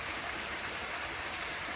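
Water falls steadily over rocks on Castle Hill in Nice, a constant broadband rush that stays even and unbroken throughout. It is close and moderately loud, with no voices.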